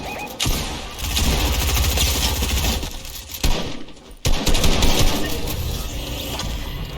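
Gunfire in a Fortnite match sounds as rapid bursts of shots and heavy impacts. Loud stretches are broken by brief gaps, and the clatter is dense and near.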